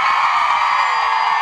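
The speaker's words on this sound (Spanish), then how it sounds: "Con un grito muy fuerte a las cuentas de tres." A crowd at a live show yells loudly together on a count of three, a sustained dense roar of shouting and cheering voices filling the space.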